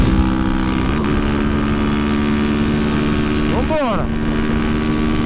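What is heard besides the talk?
Twister 300 motorcycle engine accelerating toward top speed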